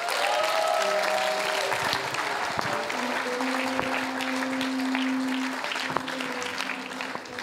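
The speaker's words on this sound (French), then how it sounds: "Acclame-le si tu le crois." A church congregation applauds continuously and loudly throughout a service, sustained clapping from a large crowd filling the room, with a few faint voices and tones beneath it.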